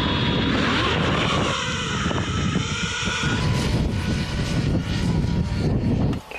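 An FPV kamikaze drone flies near a front-line defensive position, its engine making a loud, continuous droning whine with wind buffeting, steady throughout without voices.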